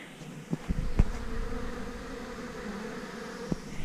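Honeybees buzz steadily around a queen cell hive, a dense, close droning hum with a few soft thumps and knocks, and no talking over it.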